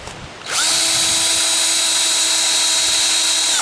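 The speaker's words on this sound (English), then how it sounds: "I don't want to drill it in all the way" A power drill spins up after a brief pause and holds a loud, steady high-pitched whine up close until the end, drilling into a plate.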